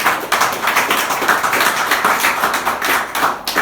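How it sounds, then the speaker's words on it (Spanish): A church congregation applauds with loud, close clapping that pulses in a quick, steady rhythm throughout. "Si lo van a aplaudir, aplaudan."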